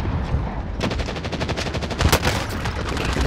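Rapid automatic gunfire from the video game Call of Duty: Modern Warfare breaks out loudly after a short lead-in and hammers on in an even, fast rhythm to the end.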